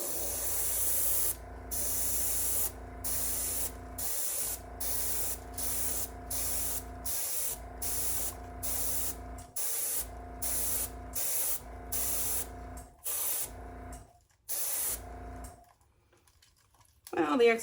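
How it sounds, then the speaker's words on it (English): An airbrush set to 35 psi blows air across an acrylic paint pour, making a loud steady hiss in repeated bursts with short breaks between them, then cutting out near the end. "I have my airbrush set to 35 psi, and I'm going to blow that inwards"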